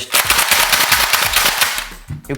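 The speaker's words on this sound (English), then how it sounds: "slam fire this gun pretty fast" A Nerf blaster slam-fired rapidly, giving a fast, loud, continuous burst of mechanical clacks and dart launches close to the mic, tapering off at the end without any speech.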